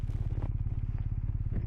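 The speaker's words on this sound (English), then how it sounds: "love the sound this bike makes as well" BMW R1250R motorcycle engine idling close by, a steady, deep, evenly pulsing throb with light mechanical clatter that stays constant throughout and has no talk over it.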